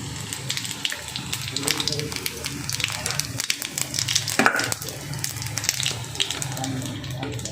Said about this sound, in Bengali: এবার ওই গরম তেলে আমি এক চিমটে সাদা জিরে আর এক চিমটে কালো জিরে দিয়ে দিলাম